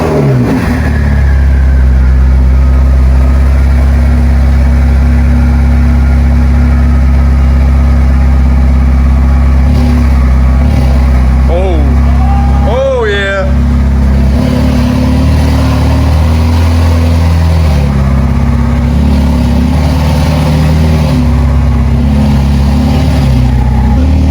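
A flood-damaged Ferrari 488 engine runs loud and close throughout, holding a steady idle, then climbs in brief revs near the middle before settling back to a constant drone.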